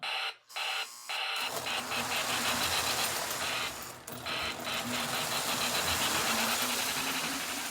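A Lionel model train's motor whirs up after a short pause and runs steadily with a rattling, buzzing hum, briefly dipping before continuing, close by.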